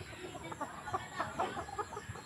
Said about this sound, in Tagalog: Ito, manok din to.